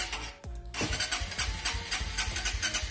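A motorcycle engine cranks and catches during an anti-theft alarm wiring test, then runs at a close, loud, steady idle with a regular low pulsing throb.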